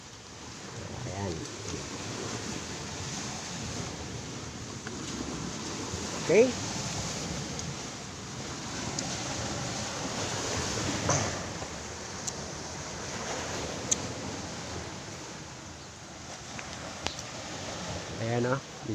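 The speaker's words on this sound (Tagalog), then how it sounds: "Kasi panay ang alon dito ngayon sa amin." Waves and monsoon wind batter a coastal shoreline, a steady rushing wash with occasional louder surges, moderately loud, while a person talks briefly over it.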